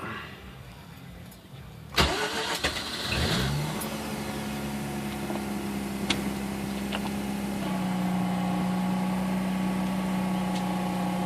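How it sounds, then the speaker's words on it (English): A 2004 Mazda RX8 rotary engine cranks and catches with a sharp start, revs briefly, then settles into a steady idle close by that gradually firms up, with no talk. "Alright, start the car."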